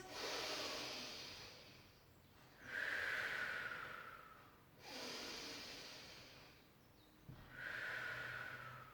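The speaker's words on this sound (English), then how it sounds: "take a breath in through the nose" Slow, deliberate breaths drawn in through the nose during a gentle Pilates session, about four long airy inhalations and exhalations, close and soft with pauses between.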